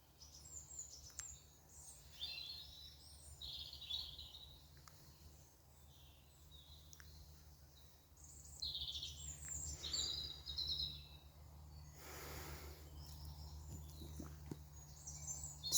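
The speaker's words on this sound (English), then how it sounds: "Can you hear the birds?" Birds singing outdoors in spring in Ireland, scattered high chirps and short song phrases at a distance over a steady low hum, faint and intermittent.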